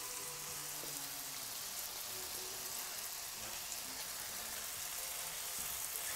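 Champignon mushrooms and garlic frying in butter in a pan, giving a steady, close, even sizzle and crackle with no talking.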